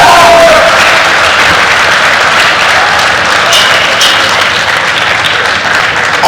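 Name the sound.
audience applauding graduating class at convocation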